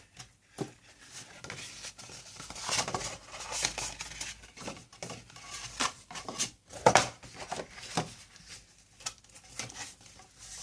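Paper being creased into folds for a handmade box base: repeated scraping and pressing strokes, close and moderately loud, in an irregular rhythm with short pauses, and no talking.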